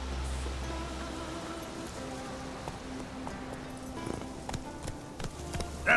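Horse hooves clip-clop at a steady rhythm in The Witcher video game, moderately close under ambient game sound, with no talking.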